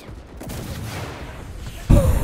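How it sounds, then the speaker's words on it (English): Bursts of machine gun fire in the Enlisted video game: a dense, noisy rattle runs steadily, then a louder, closer volley erupts near the end. "Look! Machine guns."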